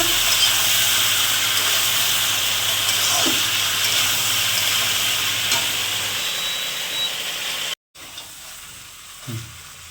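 Mutton frying in a pan for a potato curry gravy, a steady broad sizzle with stirring scrapes, loud and close, easing slightly toward the end after a brief break.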